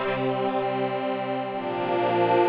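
A Roland Fantom synthesizer holds sustained chords through a modulation delay, its waveform switched to a new shape, giving a thick, shimmering, chorus-like tone that drones steadily and loud with no voices.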